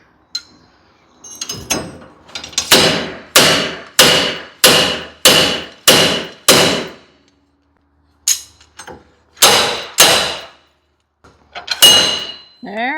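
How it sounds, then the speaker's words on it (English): A slide hammer clanks hard on a 2013 Nissan Titan as a wheel bearing is pulled, with a rapid run of about six sharp ringing metallic impacts, a pause, then several more strikes, close and loud. "Use the old slide hammer."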